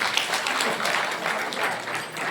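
Audience applause at a devotional kirtan gathering: a crowd claps steadily and densely for the whole stretch, loud and continuous without a break.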